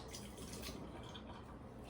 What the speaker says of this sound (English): Just going to pour that out.